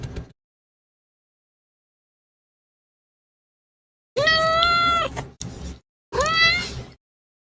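A cat meows close by, two drawn-out meows and a short one, separated by silence after a brief opening noise.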